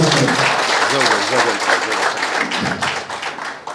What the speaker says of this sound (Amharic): አረጋግጡላቸው ጭብጨባችሁ።